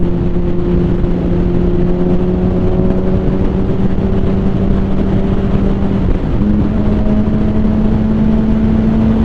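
A 2006 Honda Repsol CBR1000RR motorcycle engine heard while riding, a loud steady drone that holds near one pitch, dips briefly around a gear change, then settles again.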